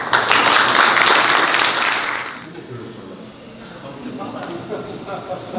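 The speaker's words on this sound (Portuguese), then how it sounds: "por favor, mais uma salva de palmas." Audience applauding at a Martin Scorsese film festival screening in a cinema: loud, dense clapping for about two seconds that then fades into a quieter room with scattered murmurs and small noises.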